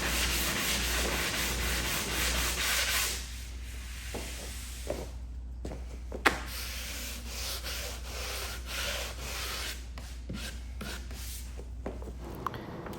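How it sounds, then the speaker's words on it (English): Coarse sandpaper rubbing along the lower edge of a decaled pinball cabinet, shaping a slight bevel: continuous close scratchy friction in long strokes with a few brief pauses and taps, over a steady low hum. "I have a little bit more coarse sandpaper for that lower edge"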